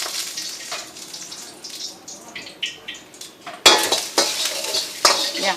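Garlic and mixed vegetables hit hot oil in a pan at a vegetarian cafe, with bright sizzling and the clatter of a utensil stirring and scraping against the pan, louder bursts as more items are added.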